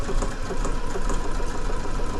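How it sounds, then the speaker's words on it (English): A sewing machine stitches a buttonhole on trousers with a dense, steady mechanical whir and rapid needle chatter, loud and close, running continuously without pause. "So all I have to do is just start sewing"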